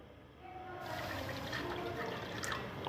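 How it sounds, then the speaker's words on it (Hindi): Water pours steadily from a glass into a cooking pot on the stove, a soft continuous splashing that builds after a quiet start. "उसके बाद आपको एक गिलास पानी डालना है ज़रा"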